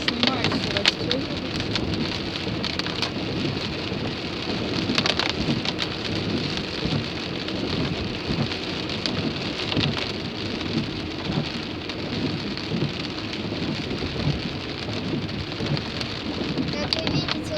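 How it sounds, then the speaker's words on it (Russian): Heavy rain pounds a car windshield while driving on a trip to Riga, a dense, continuous roar of drops with occasional louder gusts and thuds, no voices heard. "лобовое стекло намокает практически моментально, но еще здесь творится дождь"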